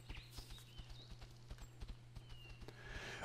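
Horse mount hooves clip-clop steadily in World of Warcraft, a quick even run of faint, close footfalls over a constant low game-music hum, with a rising whoosh near the end.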